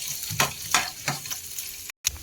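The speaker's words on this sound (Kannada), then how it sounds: "ಶುಂಠಿ ಬೆಳ್ಳುಳ್ಳಿ ಹೆಚ್ಚಿಟ್ಕೊಂಡಿದ್ವಲ್ಲ ಅದು ಹಾಕೊಳ್ಳೋಣ. ಈಗ ಫ್ರೈ ಮಾಡ್ಕೊಳ್ಳೋಣ." Ginger and garlic sizzle in hot oil for a baby corn manchurian, a steady close frying hiss broken by several stirring scrapes, with a brief dropout near the end.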